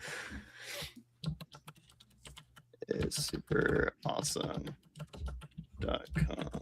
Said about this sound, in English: My mechanical keyboard probably just hurt your soul.